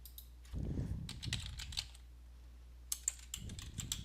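Computer keyboard typing a file name, two short bursts of soft, quick key clicks separated by a pause, faint and close.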